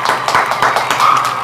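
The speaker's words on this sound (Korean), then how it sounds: "박수!" Clapping applause crowns the first champion of a cooking contest at a raw-fish restaurant; brief irregular claps fill the short moment at close range, without talk.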